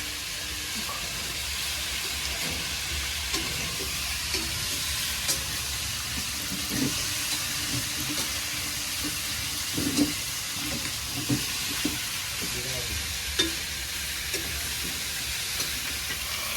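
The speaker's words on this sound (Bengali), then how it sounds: "এই সব রকম সবজি ভাজা হয়ে গেলে এখন নামিয়ে নেবো।" Mixed vegetables fry in a pot at a winter-night picnic, making a constant broad hiss with occasional soft knocks and clinks of stirring.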